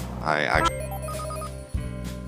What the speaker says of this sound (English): So, sorry, I'm getting a phone call.